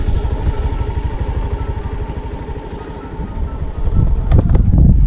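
A kickstarted scooter engine runs with a steady, fast low putter throughout, close by, growing rougher and louder near the end with added clatter.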